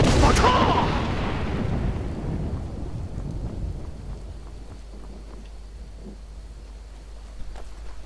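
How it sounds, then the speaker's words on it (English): A rolling thunderclap from a Skyrim thunderstorm breaks loud at the start, then fades over a few seconds into a steady hiss of rain that carries on alone. "This is a stormy storm."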